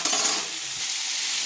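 Potatoes being stirred in hot oil for ghugni crackle and sizzle loudly at first, then settle into a softer steady hiss of frying, close up with no voices.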